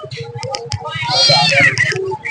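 At a winter outdoor animal market in Mirpur, a cat lets out one long, rising-and-falling meow, close and loud, with voices and clicky market noise underneath.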